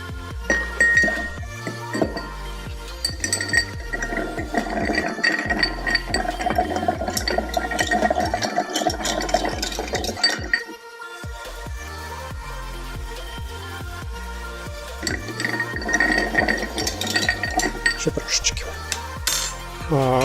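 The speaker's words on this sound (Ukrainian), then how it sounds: "Додаємо лід і добре це перемішуємо." Ice clinks and rattles steadily as a Manhattan of rye bourbon, sweet red vermouth and Angostura bitters is stirred in a mixing glass, close and continuous, with a short pause before the stirring resumes.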